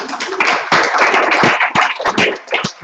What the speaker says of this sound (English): So, a round of applause for those people.